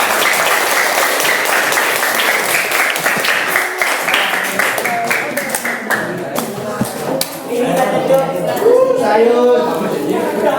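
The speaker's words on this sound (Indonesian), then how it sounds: "Tepuk tangan dulu." A classroom of students claps together in a sociology lesson after morning prayer, a dense burst of hand-clapping with scattered taps. It thins toward the end, where a voice speaks over the tail.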